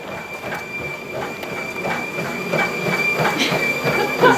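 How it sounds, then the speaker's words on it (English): A person runs on a home treadmill, heard from another room as a steady rhythmic thumping of footfalls over a rolling mechanical hum with a thin whine. The pounding grows slightly louder toward the end. "Every day you run on the treadmill."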